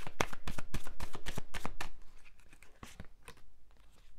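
Tarot cards shuffled and drawn by hand, a quick run of crisp riffling slaps and flicks close up, then sparser card snaps, no voices.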